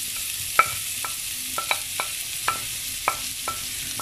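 Crushed garlic, onion and pepper frying in a pan for a tapioca and pepper liver fry, stirred with a utensil that gives about ten sharp scrapes and clicks over a steady oil sizzle, with no talking.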